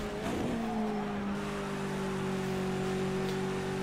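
A touring race car at full throttle on the Nordschleife in Project CARS 2 holds a steady, high engine drone with a slight pitch shift, heard alone at moderate loudness.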